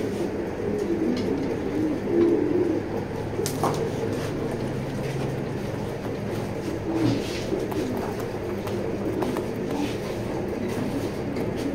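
Racing pigeons coo in a low, continuous murmur from a loft, with soft overlapping calls and a few brief sharper sounds from the birds, all at an even, moderate level.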